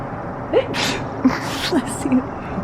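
A sneeze bursts out briefly amid outdoor fresh-air ambience, with birds chirping faintly throughout and a second short breathy burst following.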